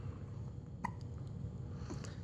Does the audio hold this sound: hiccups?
yes